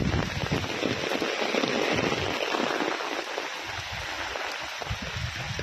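Heavy rain pours steadily, a dense continuous hiss of water drumming on surfaces with no voices.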